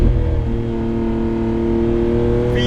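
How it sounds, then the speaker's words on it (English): Lamborghini Aventador SVJ Roadster's 770-horsepower V12 cruising gently with the roof open, a loud, steady, smooth drone heard from inside the car with a slight rise and fall in pitch. "nice gentle cruise in a huge 770 horsepower V12"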